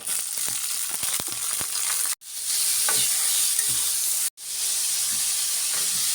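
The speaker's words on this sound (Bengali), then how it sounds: "ডাল বোনার জন্য তেল দিয়ে দিচ্ছি এখন পেঁয়াজ দিয়ে দিব ডালটি দিয়ে দিলাম" Lentils and onions fry in hot oil with a loud, continuous hiss and sizzle, close by. The sound cuts out abruptly twice, and scattered pops and taps come from stirring.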